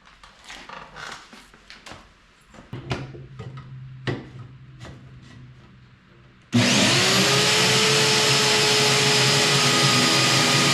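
A power tool cuts open the exhaust of a 2024 Honda Goldwing. Sporadic knocks and scrapes come first, then a loud, steady high-pitched grinding whine starts abruptly and runs without a break to the end, with no speech.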